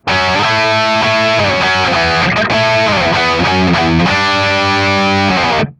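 Loud distorted electric guitar power chords on the middle strings, strummed in a steady sequence of sustained chord changes for a song, ending with a cutoff.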